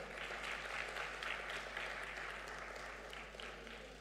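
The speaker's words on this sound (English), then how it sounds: "I think the Honorable Minister deserves a louder hand clap." A crowd applauds steadily throughout at a manufacturing investment forum, heard from some distance at a moderate level.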